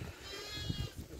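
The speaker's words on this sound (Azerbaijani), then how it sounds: "Bax, xırda quzular da var, indi açıram, bax." Sheep with small newborn lambs bleating on a farm during lambing, several short bleats close by, the loudest coming in brief bursts near the end.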